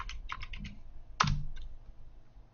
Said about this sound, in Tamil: ஸோ நான் என்ன பண்ணுறேன் அப்படின்னா இந்த இடத்துல சைனான்னு டைப் பண்ணுறேன்.